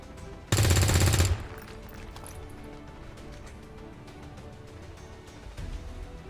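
A short, loud burst of rapid gunfire from the video game XCOM 2 lasts under a second. A quieter game soundscape with faint clatter follows, and a small rise comes near the end.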